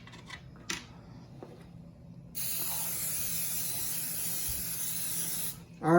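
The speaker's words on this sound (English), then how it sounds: "I'm going to spray it with some olive oil cooking spray" A can of olive oil cooking spray hisses in one steady sustained burst of about three seconds over a grill, loud and close, after a quieter lead-in with a faint click.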